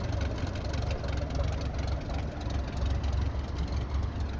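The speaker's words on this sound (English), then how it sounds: "the engine makes a different sound from different angles" A propeller aircraft engine in Microsoft Flight Simulator 2024 runs steadily, heard from outside the plane as a continuous, fairly loud droning rumble with a rough, pulsing texture.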